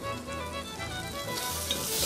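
Meat and onion sizzle steadily in a hot pan, a soft continuous frying hiss with faint stirring, heard alone without talk.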